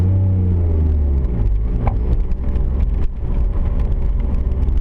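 A 1993 Nissan Skyline R33 GTS25T drives slowly through a school zone, its engine giving a loud, low, steady rumble heard from inside the car, with no talking.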